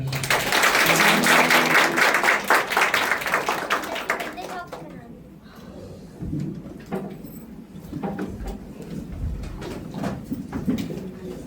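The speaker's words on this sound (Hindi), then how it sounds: "जिसको परमेश्वर ने छुआ है वो ताली बजाए।" A church congregation claps hands loudly in a dense burst that fades after a few seconds, followed by scattered claps, room noise and voices talking.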